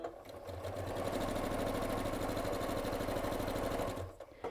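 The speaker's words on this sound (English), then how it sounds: "And I'm going to start sewing." A sewing machine stitches a scrappy pinwheel quilt block, a steady fast mechanical whirring hum close up that runs unbroken for about four seconds before slowing to a stop.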